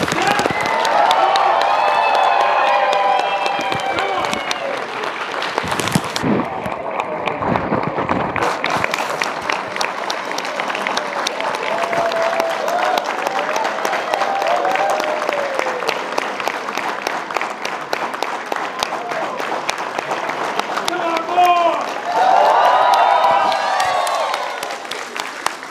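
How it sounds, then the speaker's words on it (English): An audience at a Kaplan Business School graduation ceremony in Adelaide breaks into sustained, loud applause with cheering and whoops, a dense wash of clapping that continues for over twenty seconds, with voices calling out within the crowd. "give a rousing round of applause to the Kaplan Business School graduates of"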